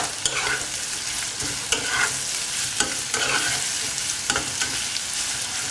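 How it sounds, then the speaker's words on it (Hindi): Radish pieces, whole dried red chillies and curry leaves are stirred in a sizzling pan, the spoon scraping in sharp, regular strokes over a constant close crackle. "खड़ा लाल मिर्च और कड़ी पत्ता डालिए, इसको अच्छे से मिलाइए"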